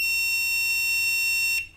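A steady high-pitched multimeter continuity beep, testing the VRM side of a motherboard, held continuously, then cut off abruptly near the end.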